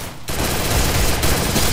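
Rapid bursts of video game gunfire from Free Fire, dense automatic fire rattling almost continuously after a brief quiet start, loud and close with no talk.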